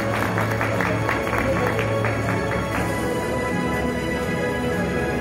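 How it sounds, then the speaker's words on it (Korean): A dense wash of audience applause fills a convention hall at a Korean brand awards ceremony at Sejong University's Gwanggaeto Hall, steady throughout and blended with background music. "저희 김소란님께 다시 한번 큰 박수 부탁드립니다"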